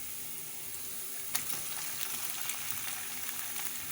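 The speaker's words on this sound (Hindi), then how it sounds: "तो इसके अंदर हम कीमा डाल के बना लेंगे" Chicken mince fries with onions in a pan, a soft, continuous sizzle with faint crackles, heard at low volume.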